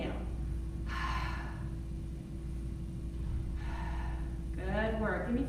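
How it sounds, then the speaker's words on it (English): Three audible breaths, exhales and inhales, punctuate a strength workout over a low steady background rumble, with the last breath carrying a slight voiced, gasping tone. "Exhale, inhale."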